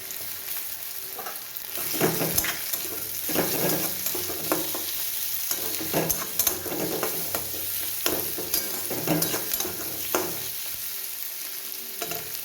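Chili and garlic fry with onions in a pan for egg malai curry, giving a close, continuous sizzle broken by repeated spatula stirs and scrapes, with no talk.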